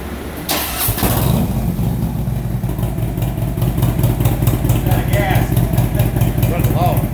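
A 2007 Harley-Davidson Screaming Eagle CVO Dyna with a 110 cubic inch engine runs on a dyno in sixth gear, loud and near, its exhaust note climbing steadily as the revs build.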